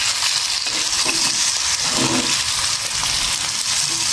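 Cabbage fries in an oil-filled pan on low heat while a spoon stirs it, giving a steady loud sizzle with scraping stir noises throughout and no voices.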